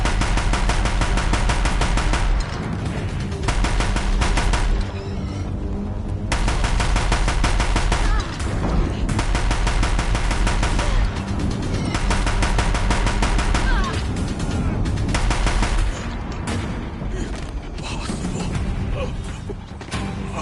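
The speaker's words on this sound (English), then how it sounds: "If the Deathbringers keep firing" Sustained, heavy machine-gun fire from Deathbringer machines in Horizon Zero Dawn, loud and continuous in long bursts with brief lulls, mixed with mechanical clanks and creaks.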